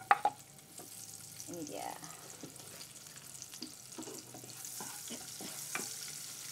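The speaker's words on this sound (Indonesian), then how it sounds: "ini sepertinya minyaknya sudah panas dan saya akan memasukkan bawang merahnya terlebih dahulu" Shallots dropped into hot oil for a stir-fried water spinach dish with shrimp paste sizzle softly alongside stirring scrapes and a few clinks, fairly quiet and close, with a brief spoken remark near the start.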